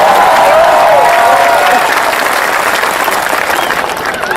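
Large crowd at a Hindi comic poetry recital in Chandigarh applauds with raised hands, loud sustained clapping with some cheering that stays full throughout and eases slightly at the end.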